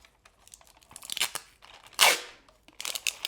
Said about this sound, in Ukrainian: І тут я фіксую скотчем.